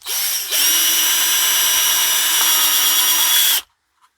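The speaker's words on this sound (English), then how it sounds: "I'm going to take a 3mm drill and then first drill that holes out" A power drill with a 3mm bit bores holes in metal during a tumble dryer repair, running loud and steady for about three seconds before cutting off abruptly.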